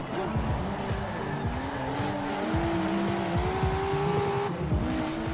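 A Nissan Skyline GT-R sports car engine in the video game Forza Horizon 4 drones and revs steadily, its pitch climbing through the gears, with faint tire noise and no talking.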